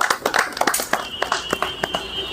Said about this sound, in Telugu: మనకి ఇంతలా హెల్ప్ చేసినటువంటి ఫైర్ సిబ్బంది అందరికీ కూడా క్లాప్స్ కొట్టాలి